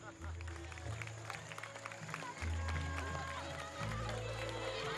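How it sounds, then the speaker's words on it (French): Audience applause greets the Minister of Culture at the Miss Tahiti 2008 pageant, a steady crowd clatter mixed with loud low music and a voice on the sound system. "Sous vos applaudissements, s'il vous plaît."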